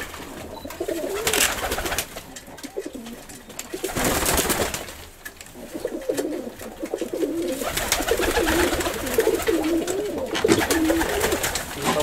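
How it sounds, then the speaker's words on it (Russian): Pigeons coo repeatedly nearby while bursts of wing flapping break out as birds take off and land, with rustling movement filling the whole stretch. "мои голуби, да таково хорошие они"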